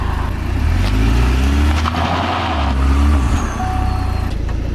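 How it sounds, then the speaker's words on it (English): A Pontiac sports car with traction control switched on revs hard in a brief burnout attempt, a loud close engine roar with shifting low drone and tire noise lasting several seconds, no voices. "It did a burnout."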